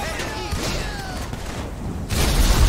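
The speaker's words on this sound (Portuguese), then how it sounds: "E a explosão muito louca?" Burning car exploding in GTA V: crackling fire and mechanical noise, then a sudden loud blast with a rumbling tail near the end.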